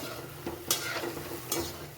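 Steady, low sizzle of soybean kebabs frying in oil, with two brief scraping stirs of a utensil partway through.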